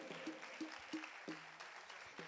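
Audience applause for the musicians at a live concert of old Hindi film songs, a soft, fairly distant clatter of clapping with a few brief tonal sounds mixed in.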